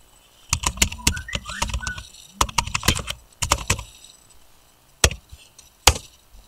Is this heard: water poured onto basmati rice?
no